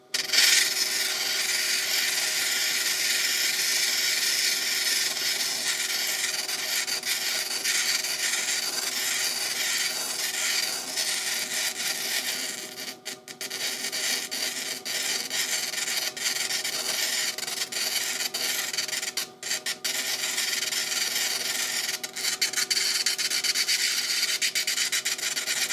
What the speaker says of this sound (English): So I got my 180 grit diamond disc right here.